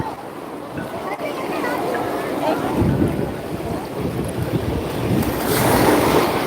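Sea waves wash onto the rocky shore at Tiruchendur, near and rolling, with heavy wind buffeting the microphone. The surf surges louder toward the end.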